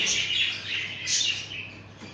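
Pet birds in a breeding aviary, including a white-face cockatiel, chirp in a soft, steady twitter with two swelling bursts of high calls, close and without talk.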